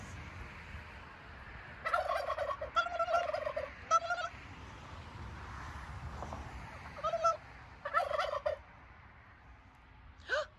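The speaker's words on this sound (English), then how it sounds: "Turkeys." Turkeys at a roadside garden attraction on Route 66 gobble in several loud, rattling bursts, spaced a second or two apart, over a quiet outdoor background.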